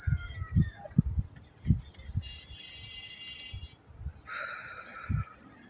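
Pigeons in a loft, with soft low cooing pulses repeating through the flock and thin high chirps and tweets above, one brighter whistling call near the end.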